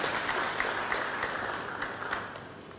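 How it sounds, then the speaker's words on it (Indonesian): Church congregation at a sermon claps in a brief burst of fairly quiet, scattered applause that gradually fades over a few seconds. "Berikan tepuk tangan yang meriah betul."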